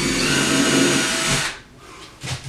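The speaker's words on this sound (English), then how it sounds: "I can go ahead and drill my hole." A power drill drilling a hole in a wall whirs steadily and loudly for about a second and a half, then cuts off, leaving quiet room noise with a few faint knocks.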